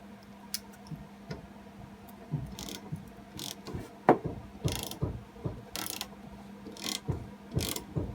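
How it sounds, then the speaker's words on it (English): A Honda HR173 lawn mower blade being tightened by hand with a ratchet, the blade held against a length of wood; repeated close ratcheting clicks and knocks come in irregular bursts, with no talk. "So now I'm just going to tighten this blade."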